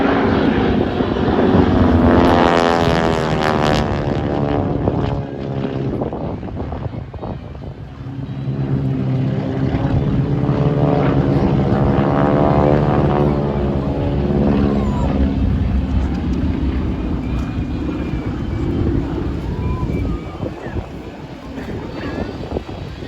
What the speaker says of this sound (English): Listen for that big old 9-foot diameter propeller to go close to supersonic.